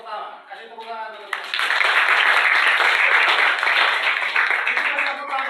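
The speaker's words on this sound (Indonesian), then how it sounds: "Kasih tepuk tangan dulu." A classroom group claps during an Islamic religious education teaching session: a brief voice first, then a sudden burst of close, dense applause that holds strongly and slowly thins toward the end.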